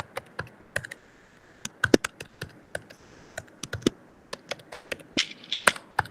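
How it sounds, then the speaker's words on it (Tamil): Fingers type on a computer keyboard in bursts of quick, crisp key clicks, close and fairly quiet, with brief pauses between runs. "நம்ம இப்போ இதையே நம்ம டைப் பண்ணி வைப்போமே"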